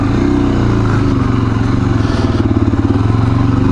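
A Suzuki DRZ400S dual sport motorcycle rides close up, its single-cylinder engine thumping in a loud pulsing rhythm with wind buffeting over the top.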